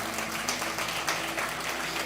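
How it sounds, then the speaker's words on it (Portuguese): A short burst of applause from a church congregation, steady clapping from many hands heard at moderate distance for about two seconds. "Dá um aplauso para Jesus bem forte"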